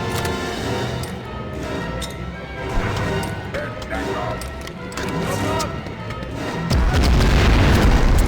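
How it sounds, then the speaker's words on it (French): A grenade blows up in the Medal of Honor remake, a loud, heavy boom and crash that swells and then rumbles on under busy game noise, with no speech heard. "Ah oui, ça a bien explosé là."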